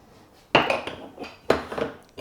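A spoon scrapes and taps against ground coffee in the metal basket of a moka pot, two short scraping strokes with light metallic clinks, close and clear.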